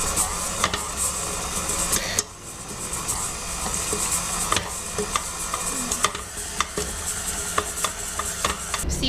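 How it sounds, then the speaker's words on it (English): An electric mixer on low speed beats sugar and butter together, a steady close whir with frequent small ticks and clatters from the beaters against the bowl, no talk. "Always start your mixer on low."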